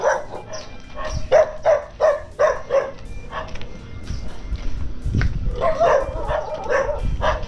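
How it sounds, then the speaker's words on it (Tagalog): Several dogs bark in repeated bursts, some yips mixed in, moderately close, over a rough background rumble, outdoors near a house in the Philippines; a quieter stretch precedes another flurry of barking. "Dami aso dito."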